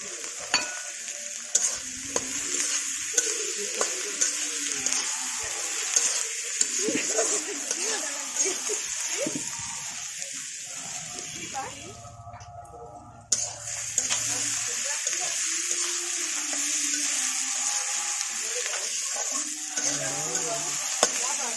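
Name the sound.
chopped tomato being fried and stirred in pan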